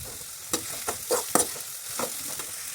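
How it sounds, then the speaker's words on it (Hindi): Chopped onions frying in oil with cumin in a home kitchen pan, a steady close sizzle with several clinks and scrapes as a spoon stirs, no voices. "प्याज डाल देंगे और प्याज को हम थोड़ा फ्राई करेंगे"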